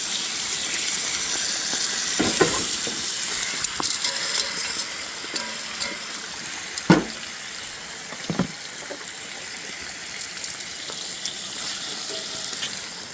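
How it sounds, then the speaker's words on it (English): Bacon frying in a pan at a campsite, a steady hissing sizzle with a few louder pops and crackles standing out, close and moderately loud. "Oh, sizzling bacon."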